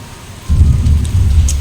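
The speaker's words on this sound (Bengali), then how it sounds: "বাইরে এই দেখো কেমন মেঘ ডাকছে শুনতে পাচ্ছ আওয়াজ পাচ্ছ" Deep, low thunder rolls in after a short quiet moment and keeps rumbling steadily during heavy rain, with a faint wash of rain in the background.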